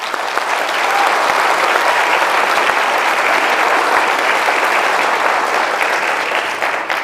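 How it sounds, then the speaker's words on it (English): A hall full of people at a university PhD graduation ceremony applauds in a long, even, loud burst that holds steady before tapering slightly at the end, with no talking. "Another round of applause."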